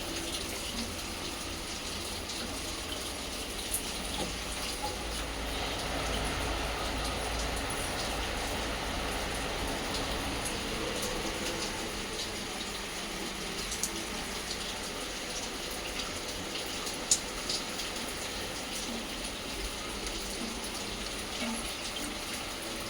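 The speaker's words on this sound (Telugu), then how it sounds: "చూడండి వాన" Steady rain falls outdoors in a broad, even wash of patter and hiss that runs throughout, at moderate distance and fairly faint.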